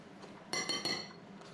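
A spoon clinks against a bowl of homemade pico de gallo, making two or three quick bright taps close by in an otherwise quiet moment.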